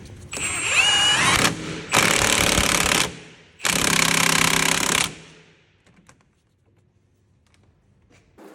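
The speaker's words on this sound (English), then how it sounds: "Now I am just going to do this with an impact driver." An impact driver tightening a wheel hub bolt on an Audi A4 during front wheel bearing replacement: three loud, close bursts of rapid hammering, each about a second long and separated by short pauses, then quiet.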